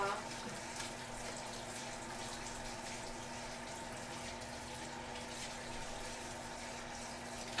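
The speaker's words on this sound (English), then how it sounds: "Make sure this is rinsed off." Tap water runs steadily while a French press is rinsed in a kitchen sink, a constant close splashing wash with no pauses.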